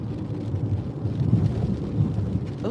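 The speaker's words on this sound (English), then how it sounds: "Oh, it's starting to rain now." Rain beginning to fall at an outdoor concert, a dense, steady wash of raindrops with low rumbling, continuous and fairly loud with no voices.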